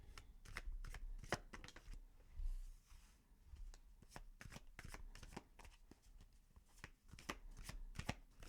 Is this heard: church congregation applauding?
no